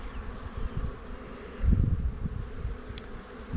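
A very young honeybee colony buzzes as it is moved into a hive, a close, dense hum that swells briefly partway through, with no talking.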